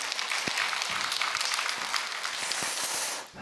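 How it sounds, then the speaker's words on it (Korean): A church congregation at a dawn service applauds steadily, a dense wash of clapping that holds for a few seconds before starting to fade. "여러분 박수 한번 해주시면 고맙겠습니다."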